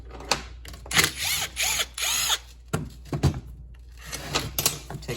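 A power drill backing long bolts out of a Harbor Freight winch, with short whirring bursts and ratcheting clicks interspersed with metallic taps, close and moderately loud.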